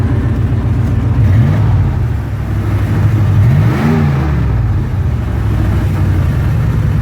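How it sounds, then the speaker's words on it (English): An engine that has sat unused for a long time idles with a misfire, a loud, close, steady low rumble with uneven wobbling pulses, running alone without any voices. "Sounds like it's got misfire though"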